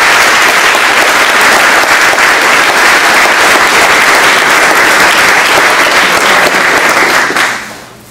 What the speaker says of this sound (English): Give us another round of applause.